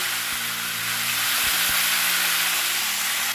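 Steady, loud sizzling as cumin seeds fry in hot mustard oil left from frying fish, a continuous hiss with a few faint knocks underneath.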